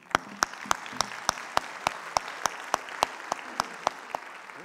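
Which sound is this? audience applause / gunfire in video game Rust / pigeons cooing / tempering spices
audience applause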